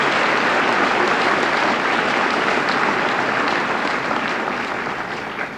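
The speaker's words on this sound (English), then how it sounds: "And I'd like to give him another round of applause." Enthusiastic applause from a large high school senior assembly audience, a dense wash of clapping that gradually tapers off toward the end.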